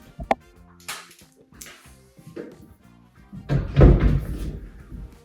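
Double closet doors in a bedroom open and close with a few sharp knocks and clacks, then a louder rattling burst of door movement near the end, close by and with no talk.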